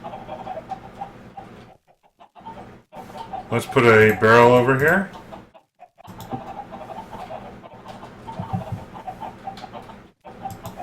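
Chickens cluck and coo in Minecraft with the Agrarian Skies modpack, a busy fowl chorus running through most of the stretch, with a louder burst of clucking midway, while someone talks briefly over it.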